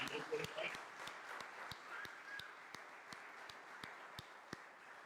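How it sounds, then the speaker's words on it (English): Applause from an audience inside All Saints Episcopal Church in Hershey, Pennsylvania, a soft steady wash of many hands with a few sharper claps standing out, heard at a moderate distance and quite faint overall. "Give them a round of applause."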